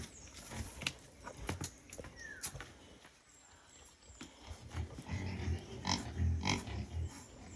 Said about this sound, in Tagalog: Daming baboy dito, oh.